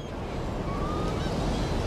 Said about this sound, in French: Ceux-ci sont des cormorans de Bougainville.